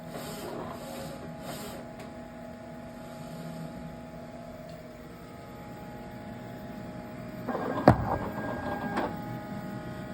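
An inkjet film printer runs a nozzle check, giving a steady mechanical hum with a carriage whir, followed by a short burst of sharper clicks and clatter near the end.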